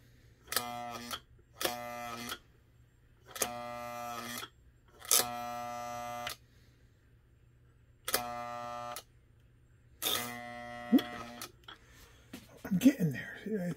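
Electric car can motor on a 474 engine running in short bursts, a buzzing whir that starts and stops about seven times in roughly one-second pulses over a low steady hum, close and moderately loud.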